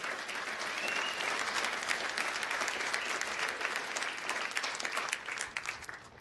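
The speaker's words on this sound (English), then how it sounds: "You can clap for that" Sustained crowd applause at the Patriots Hall of Fame induction of Matt Light, a steady wash of many hands clapping at moderate level that thins slightly toward the end.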